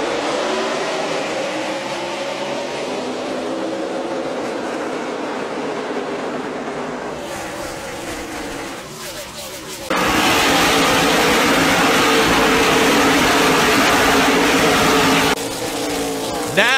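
NASCAR stock cars race under the lights at the 2017 Bass Pro Shops NRA Night Race at Bristol. A loud, continuous engine roar fills the track, broken by abrupt shifts in intensity as the sound jumps between passes.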